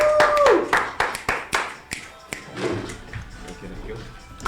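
A live show audience claps to welcome Coach Ashraf Calvert, sharp scattered claps and light applause mixed with whoops and a host speaking over it.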